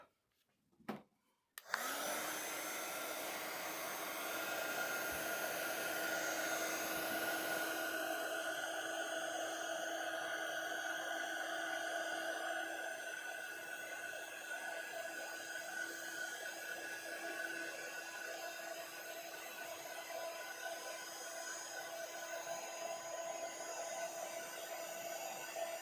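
After a couple of faint clicks, a heat gun switches on near the mic while heating clear gloss embossing on paper and keeps up a steady whirring blow with a tonal hum for the rest of the clip.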